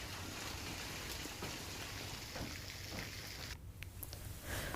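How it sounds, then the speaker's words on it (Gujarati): Heavy downpour over a city in Gujarat, a steady dense hiss of rain on surfaces continuing without pause, faint and distant-sounding throughout. "સુરત શહેરમાં પણ ધોધમાર વરસાદ આજે શરૂ થયો છે"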